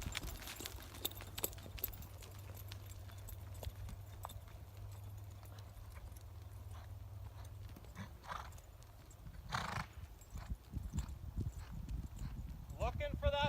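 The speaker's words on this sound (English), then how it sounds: "All right, now I'm ready to canter." A horse canters during competitive training, its hooves giving a rhythmic clip-clop close by, with a whinny at one point and a person talking over the movement.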